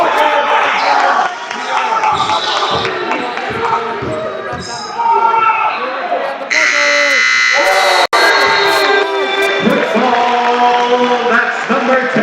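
A buzzer sounds at the end of the first quarter of a boys varsity high school basketball game, rising over a loud gym crowd, bouncing balls and a commentator talking.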